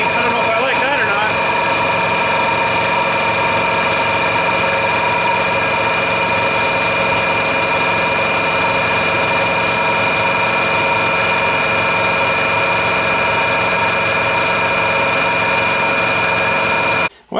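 A small air compressor runs continuously as it builds pressure, a loud steady motor drone with a sustained whine and mechanical hum, close by and unbroken until it cuts off suddenly at the end.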